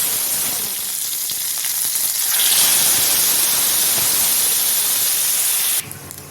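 Mustard-oil tempering of whole spices for Bengali khichuri sizzles loudly and steadily in a hot pan, a dense bright hiss that swells midway and then drops off abruptly near the end.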